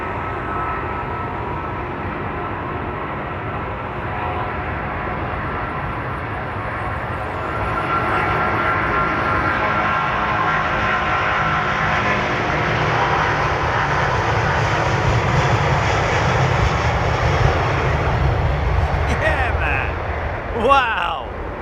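Jet airliners roar on departure from runway 27R, a loud sustained engine rumble that swells and builds steadily, with faint voices talking underneath.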